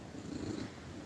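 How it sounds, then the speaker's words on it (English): A cat purrs close by, a steady low rumbling drone that continues evenly without pause, alone with no other sounds. "You're a weird cat."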